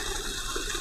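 A solar-powered 7.5 HP submersible pump with a 4-inch pressure outlet delivers water in a loud, steady, broadband rush of gushing flow that runs from start to end with no talking.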